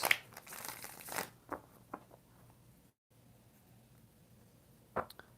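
Tarot cards being shuffled in four shuffles: a rustling riffle at the start, then a few soft isolated flicks and taps, quiet and close, with no voices.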